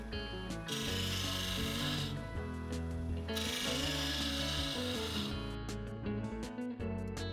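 Bowl gouge cutting a turned wooden box lid on a lathe, side wing removing stock, giving a steady rasping scrape over the continuous hum of the spinning lathe, close and loud throughout.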